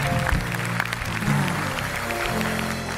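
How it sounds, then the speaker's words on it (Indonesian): Studio audience applause on an Indonesian television talk show, a steady wash of clapping throughout, with low music or voice tones sitting underneath. "tepuk tangan buat Sakti."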